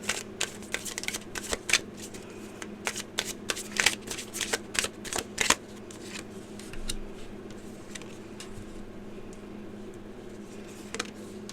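A deck of tarot cards shuffled by hand, giving rapid crisp riffling bursts and flutters that come in quick clusters, then thin out into softer occasional card snaps.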